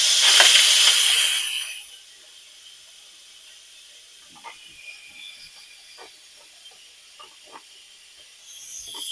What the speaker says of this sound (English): Just let steam off of there.